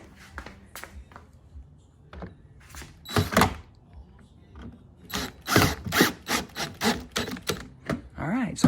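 A drill's clutch ratchets in rapid clicking bursts while snugging bolts on a Club Car Precedent golf cart body, close and loud, with brief pauses between runs and a few faint voice sounds mixed in.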